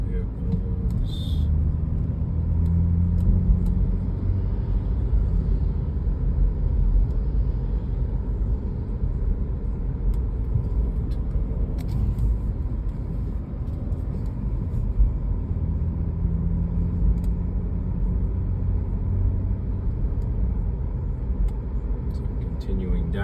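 Steady, loud low road rumble from inside a car driving through the Sun City community, continuing without a break while someone narrates over it.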